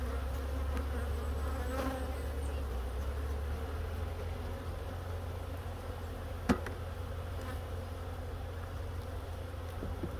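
Dense, steady buzzing of many honeybees around an open hive being worked for winter, a continuous close hum with one brief knock partway through.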